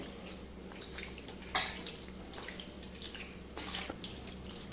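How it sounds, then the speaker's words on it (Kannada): Grapes are washed in cooled boiled water in a home kitchen for making red wine. Soft, faint sloshing and splashing carry on steadily, with one sharper splash near the start and no voices. "ಇದು ನೋಡಿ, ಬಿಸಿ ನೀರಲ್ಲಿ ತೊಳಿತಾ ಇದ್ದೇನೆ."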